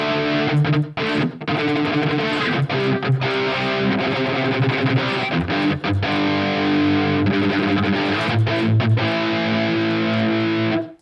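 A heavily distorted electric guitar plays a live tone through a Mooer GE300 Marshall amp model, sustained crunchy chords and riffs ringing loud and continuous for the whole stretch.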